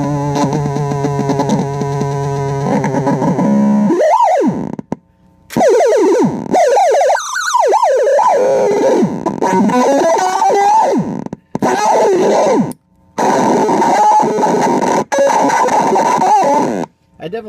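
Warbling, fuzzy synthesized tones from a Repeater PLL effects pedal, with sweeping pitch glides and harsh buzzy textures, loud and chaotic, cutting in and out with brief silent gaps.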